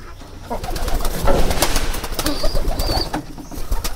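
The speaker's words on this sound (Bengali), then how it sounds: "আর এখানে কবুতরগুলো" Pigeons kept in a backyard coop coo and rustle nearby, with bursts of wing flapping and scuffling over a steady, busy background of bird noise.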